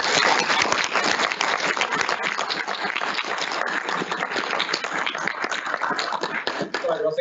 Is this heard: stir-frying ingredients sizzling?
no